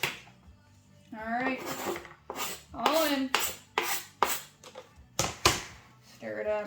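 A knife stirs food in a cooking pot, giving scraping, rubbing clinks in uneven bursts, with a person talking in between the strokes.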